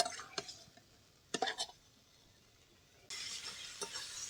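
Prawns with elephant-foot yam stalks stir-fried in a pan: scattered spoon scrapes and clinks, then a steady, fairly loud sizzle rising for the last second or so, with no talking.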